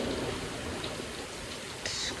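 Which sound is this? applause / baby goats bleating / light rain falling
light rain falling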